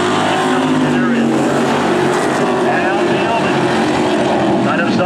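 Street stock race cars roar around Lee USA Speedway in a loud, continuous engine howl that rises and falls as cars pass, with a race announcer talking over the noise.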